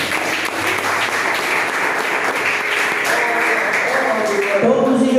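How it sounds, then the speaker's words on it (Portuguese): Church congregation clapping in praise at a Portuguese-language worship service, dense sustained applause filling the room, with a voice speaking over it near the end. "Louva o Senhor com as palmas"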